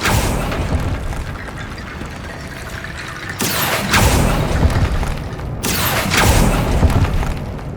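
The Bombarda explosion spell goes off in the video game Hogwarts Legacy inside a goblin mine: two loud, broad bursts with crumbling, rumbling debris that trails off, over a steady low ambient drone.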